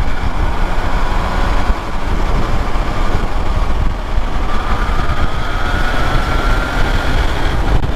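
A Triumph Tiger Sport 660 inline-three motorcycle on engine braking, a loud steady drone of engine and wind noise that holds throughout without pause, with a faintly shifting tone.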